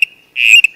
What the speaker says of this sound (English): we heard birds in central China with a much lower-pitched song.